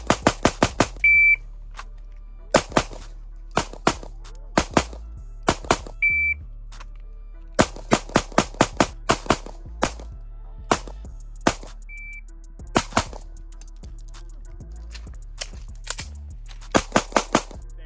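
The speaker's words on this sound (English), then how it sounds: "We just ran 500 rounds through the brand new Springfield Armory Hellcat Pro Comp" Sharp bursts of pistol fire from a Springfield Armory Hellcat Pro Comp, loud close shots in quick strings and doubles with short gaps, plus a few faint beeps.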